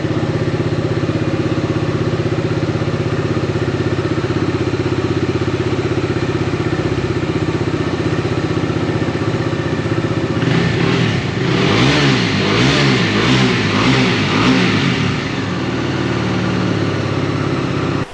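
A Bajaj Dominar motorcycle engine runs steadily at idle just after servicing, then revs up in several throttle blips around the middle before settling back to a steady idle, loud and close with no talking.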